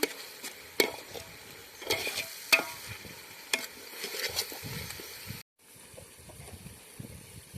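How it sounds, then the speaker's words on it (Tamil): Chilli powder and garam masala being stirred into a pot of yogurt-marinated quail for dum biryani, with a spoon scraping and clinking in uneven strokes over a light sizzle, a brief cut to quieter stirring near the end. "சேர்த்துட்டு நல்லா கலந்து விட்டுருங்க"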